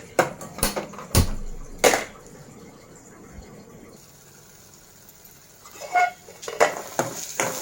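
Onions frying and being stirred in a pan for a Telugu crab curry (peethala pulusu), heard as scattered clinks and scrapes of a utensil against the pan, with a soft sizzle beneath and a quieter pause in the middle.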